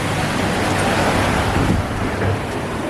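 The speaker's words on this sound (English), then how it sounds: "I hope you guys are able to hear me because it's very, very windy out" Strong, steady wind roars across the microphone on a cruise ship deck with a broad rushing noise, a hint of surging water beneath, no voices.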